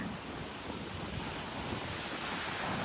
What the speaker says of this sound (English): We finally made it down to the beach here.